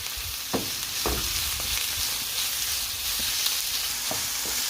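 Onion and chicken fry together in a pan with a continuous crackling sizzle, broken by a few soft spatula taps and stirs. The sound is close and fairly loud, with no talking.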